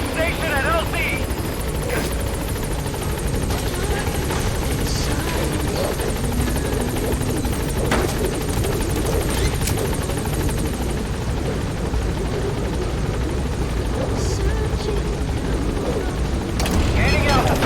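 Helicopter in Metal Gear Solid V approaching a landing zone, its heavy rotor roar constant and close throughout, with occasional radio voices and distant booms.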